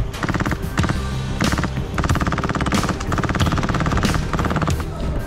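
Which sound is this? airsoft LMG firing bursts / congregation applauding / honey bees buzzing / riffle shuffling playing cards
airsoft LMG firing bursts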